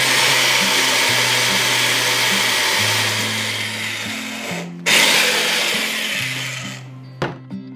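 A loud, steady whine of an old electric drill boring through metal grinds continuously, drops out briefly near the middle, then resumes before a few sharp knocks at the end.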